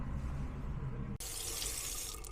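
A tap runs into a sink in a laboratory, first a softer steady stream, then a sudden switch to a brighter, louder rush of water that continues to the end.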